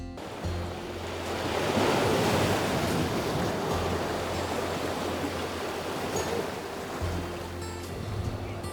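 Ocean waves wash onto the coast at Carlsbad, California, a broad continuous surf roar that swells and eases, with steady wind noise and a low hum underneath and no voices.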